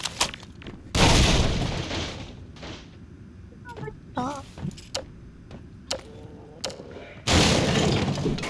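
Grenades explode inside a room in Half-Life 2: Episode Two: two loud, broad blasts a few seconds apart, with sharp clattering hits and brief game noises between them.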